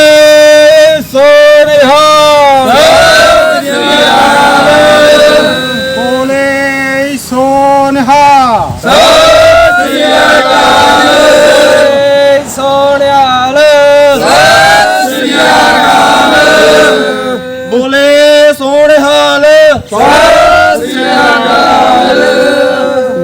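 A crowd at a Sikh seva gathering shouts the jaikara war cry in loud, repeated, chant-like bursts. Voices rise and fall together in waves with short pauses between calls.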